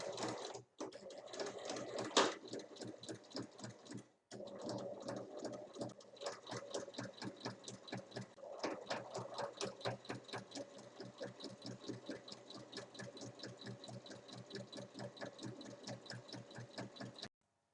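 A sewing machine runs steadily for a long stretch, stitching a seam around a fabric pocket tidy with lining at 1 cm, with brief pauses between bursts of rapid, even needle strokes, close and alone.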